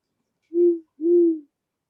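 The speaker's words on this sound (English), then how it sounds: "An actual owl, actually" An owl gives two clear, low hoots close by, each about a third of a second long and separated by a short pause, in otherwise silent surroundings.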